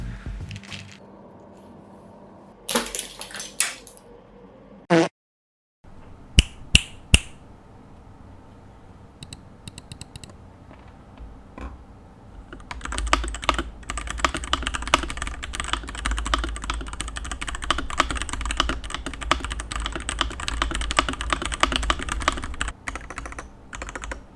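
Mechanical keyboard keys with Cherry MX switches click sparsely at first, then break into fast, dense typing, a continuous close clatter of keystrokes.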